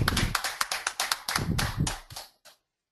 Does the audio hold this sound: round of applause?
yes